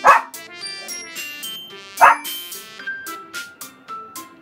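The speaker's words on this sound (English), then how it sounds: "I danced when the dog started barking." A dog barks loudly in a couple of sharp nearby bursts, followed by lighter yips over a bright, tinkling musical background.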